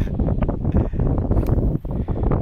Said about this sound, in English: We got a little wind coming at us,